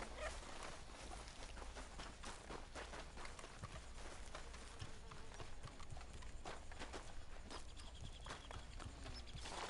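Horse hooves clop at a running pace in Red Dead Redemption 2 Online, a steady rapid galloping rhythm that is faint and distant under a dense, noisy game mix.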